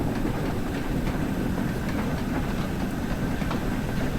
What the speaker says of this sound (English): I like the noises the wagons make.